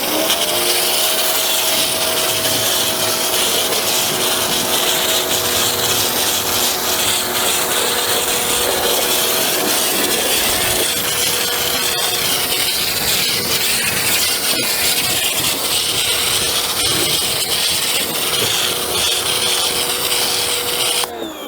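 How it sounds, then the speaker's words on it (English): A loud, steady pressure washer drones with a constant motor hum and rough hissing spray while foaming and rinsing a rusty mower deck, running without pause throughout. "foam it one more time, and rinse it"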